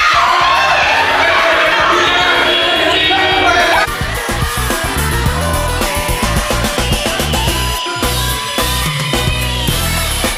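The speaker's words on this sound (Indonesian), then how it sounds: "Semuanya pada teriak-teriak dan kuping saya sakit ya." Loud, dense crowd of students yelling and cheering throughout a song-guessing game, the shouting continuous and overlapping with music-like tones, close and overwhelming.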